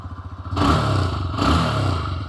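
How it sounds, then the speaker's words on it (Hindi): A TVS Raider 125cc motorcycle starts and settles into an idle, its steady engine and exhaust note close by with a couple of slight swells in loudness and no talking. "आइए अब स्टार्ट कर लेते हैं। इंजन साउंड और एग्जॉस्ट नोट सुनाता"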